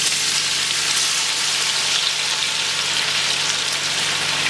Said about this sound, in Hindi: इसमें आपने प्याज फ्राई करनी है